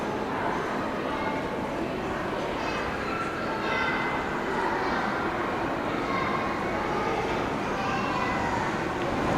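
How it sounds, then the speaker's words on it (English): A steady, broad rumble of a double-decker train rolling past nearby at a railway museum in Saitama, continuous and even throughout, with faint rhythmic clatter and no voices. "That was a double-decker train that just went past here"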